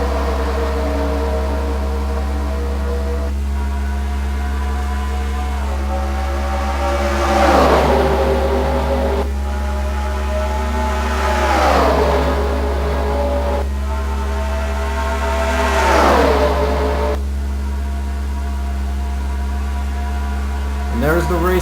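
Stock cars racing at California in a racing video game, a constant engine drone with a few swelling passes, under continuous talk.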